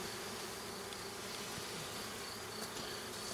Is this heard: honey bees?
yes